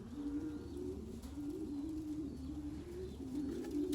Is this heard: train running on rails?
no